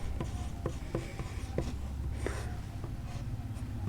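Pen or chalk writing on paper or board while working a maths problem: a string of short, close scratching strokes and taps in an uneven rhythm, quiet and alone, with no talk.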